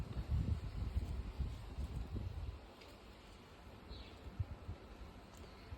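A cool breeze blows outdoors among garden plants, gusting as low rumbling wind buffets the microphone for a couple of seconds, then easing to a quieter, steady airy hiss.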